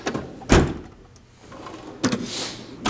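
A tool box drawer holding pliers slides open, with a sharp clack near the start and two more knocks of metal about a second and a half apart. No one speaks.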